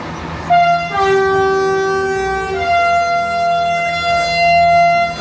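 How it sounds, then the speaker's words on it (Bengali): A Myanmar train sounds a loud, sustained horn signal as it departs, a steady tonal blast that shifts pitch partway through, over the rumble of the railway close by. "ট্রেন ছেড়ে দিতেছে সিগন্যাল দিয়ে"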